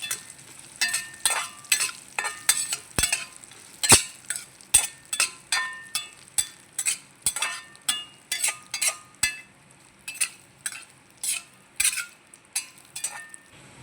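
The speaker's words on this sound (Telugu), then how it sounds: "ఎండు కొబ్బరి తిప్పుదాం" Dried coconut fries in a pan for semiya payasam while a spoon stirs it in a steady rhythm of repeated scraping strokes, with sharp metallic clinks of utensil on pan over a light sizzle.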